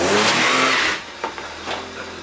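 A Nissan R31 Skyline engine revs loudly up close, then drops away as the tyres skid with short scrubbing squeals.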